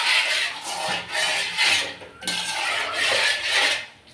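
A utensil scrapes and clinks steadily against the inside of a metal pot while kesari colour powder is stirred into water, in continuous stirring strokes with short pauses, close and fairly loud.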